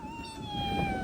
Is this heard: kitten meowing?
yes